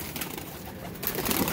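A released pigeon takes to the air, with brief fluttering and cooing-like bird sounds close by, while outdoor background noise continues underneath.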